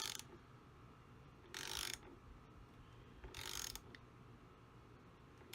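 A ratchet tightening the terminal nut on a newly added RV trailer battery, heard as two separate bursts of quick clicking a couple of seconds apart over a quiet background.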